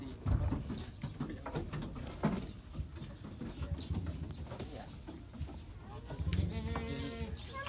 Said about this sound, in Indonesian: sebenarnya kambing biasa cuman kebetulan ya entah kambing Jawa lah